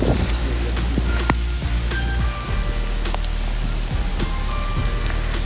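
Heavy rain falls outdoors in a steady dense hiss, with big drops striking loudly nearby and a low rumble of wind or traffic underneath, and no talk.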